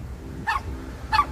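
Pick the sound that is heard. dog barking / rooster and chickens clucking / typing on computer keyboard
dog barking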